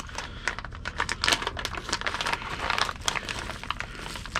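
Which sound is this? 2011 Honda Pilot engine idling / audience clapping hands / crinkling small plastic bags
crinkling small plastic bags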